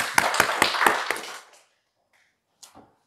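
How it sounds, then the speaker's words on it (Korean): A church congregation applauding at the close of a prayer, a short burst of rhythmic, fairly close clapping that fades out after about a second and a half, followed by a faint stray sound. "박수 영광 올리겠습니다"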